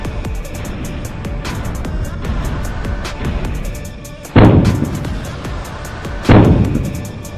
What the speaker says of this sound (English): British naval ships were blasted one by one.